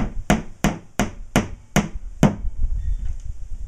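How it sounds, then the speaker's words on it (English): A nail hanger is hammered into drywall with six sharp, evenly spaced blows that land close and loud, then stop, leaving a quiet room tone. "you make your mark where you want your hanger to go, and then you would just pound it into place"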